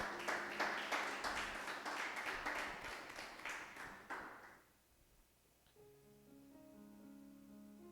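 A church congregation applauds in a burst of steady clapping that fades out after a few seconds, followed by quiet soft keyboard tones.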